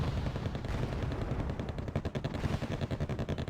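Gunfire in the video game Wargame AirLand Battle as AMX-30 tanks engage, dense rapid bursts like machine-gun fire forming a continuous rattling barrage, moderately loud with fluttering pulses toward the end.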